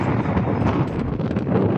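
Strong, cold wind buffets the microphone in dense morning fog on a mountain overlooking lakes in West Sumatra, Indonesia, a steady broadband roar that rumbles and gusts throughout with no voices.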